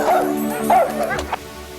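Dog yipping and whimpering in short whiny bursts, close and fairly loud, with a brief sharp bark near the end over a quiet room.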